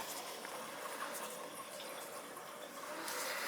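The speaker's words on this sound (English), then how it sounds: "It's gonna start filling the boiler now." Water feeds steadily into an old boiler as it fills, a soft continuous rushing hiss that stays faint and even throughout, with no voices.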